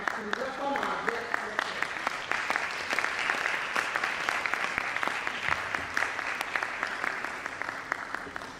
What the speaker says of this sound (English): Join me to applaud an eldest scholar as we welcome our guest.